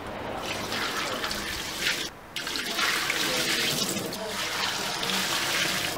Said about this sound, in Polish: Woda nalana, jest jej dość mało